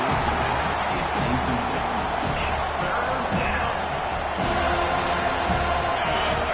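Crowd at a football stadium, a broad steady roar of cheering and shouting that fills the space at an even level, with a commentator's voice heard over it.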